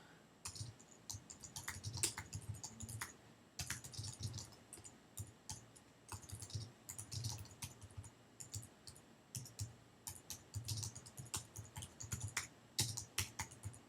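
A title is typed on a computer keyboard, producing a quiet, steady run of close key clicks with brief pauses between bursts.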